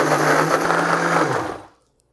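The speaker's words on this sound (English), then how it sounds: "Now all that's left to do is blend it." A blender whirs steadily through a thick vegan coconut-milk bowl mixture, a loud continuous motor hum that cuts off abruptly, leaving near silence.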